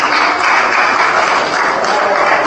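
Audience in a debate hall in Comrat, Moldova, applauding: a steady, dense wash of many hands clapping at a constant loud level, with no break and no voices.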